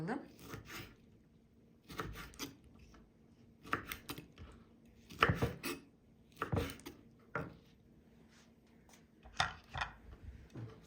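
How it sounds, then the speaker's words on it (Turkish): A knife chops lemons on a board in short bursts of quick taps, separated by pauses, close up and fairly quiet. "Çekirdekler ayrıldıktan sonra limonları şöyle doğrayalım"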